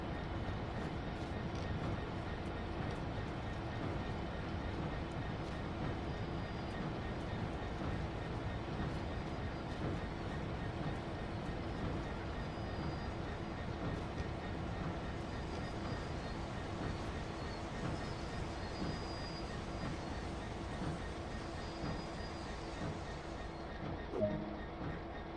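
A train runs through a track-closure scenario in Train Sim World 2, giving a continuous, loud, steady rumble and wheel roar that stays level for the whole stretch with no distinct breaks.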